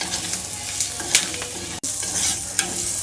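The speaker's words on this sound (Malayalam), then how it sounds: "കക്ക പൊട്ടണ സൗണ്ടാണ് എന്നാണ് എൻ്റെ അറിവ്" Clams (kakka) stir-fried in a pan for a kakka roast give a steady, close sizzle with stirring scrapes, broken by a couple of sharp, brief pops.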